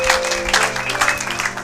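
A church congregation applauds in a steady, dense burst of clapping, close and loud, with a voice speaking faintly underneath.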